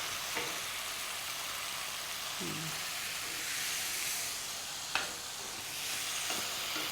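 Chicken pie filling cooking in a pan with tomato puree and black pepper, stirred with a spoon; a steady close sizzle and hiss runs throughout, with a few scraping knocks of the utensil against the pan.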